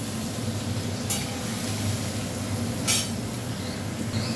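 Prawns frying in hot oil with fried onion, garlic and green chilli: a steady, close sizzle fills the whole stretch, broken by two brief scraping stirs, with no talking.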